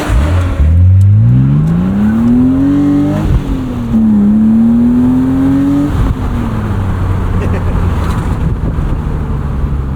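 A 1999 BMW Z3 M Roadster engine revs loud and close, its pitch climbing steeply, dipping, then rising again before settling into a steady drone.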